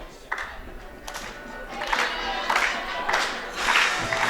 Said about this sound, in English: And the crowd here really getting into it.